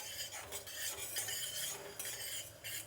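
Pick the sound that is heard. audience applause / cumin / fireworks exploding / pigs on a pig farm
cumin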